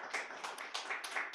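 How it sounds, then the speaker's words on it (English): A small audience claps for a drag performer at a live comedy show, a brief patter of scattered hand claps at moderate distance. "give that drag performer a round of applause for being here"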